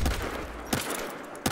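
Sharp bursts of gunfire in Battlefield Hardline, several close shots separated by brief pauses, loud and punchy.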